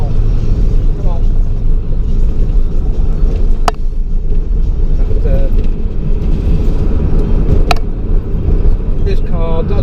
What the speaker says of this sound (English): This car does roar.